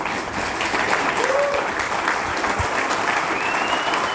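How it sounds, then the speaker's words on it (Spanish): Sustained applause from an audience, steady and fairly loud clapping throughout with a faint voice in the background. "creo que le doy un gran aplauso"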